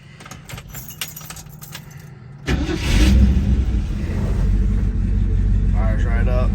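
A 1968 Ford Mustang S-code 390 GT V8 cranks and catches about midway, settling into a loud, rumbling idle close by; keys jangle and a voice speaks briefly beforehand.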